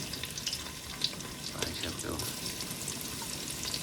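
Onions and green chillies dropped into hot oil for a vegetable curry, frying with a steady soft sizzle and a few brief clatters, moderately near and quiet throughout.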